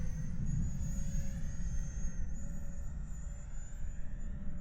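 A YF-23 Black Widow Gen 2 RC jet flies overhead with a steady, moderately distant whooshing turbine roar and a thin high whine, continuous throughout with no talking.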